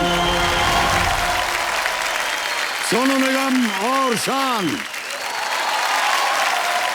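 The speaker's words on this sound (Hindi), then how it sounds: "जोरदार तालियां बज जाएं" Studio audience applauding on a televised quiz show set, broad sustained clapping that fills the room, with someone speaking over it and brief sung or tonal phrases rising midway before the crowd carries on.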